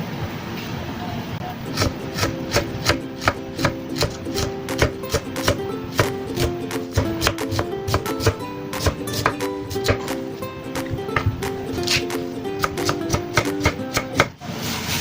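Vegetables being sliced thinly with a knife on a board, a rapid, steady run of crisp close cuts continuing for several seconds, with background sound underneath.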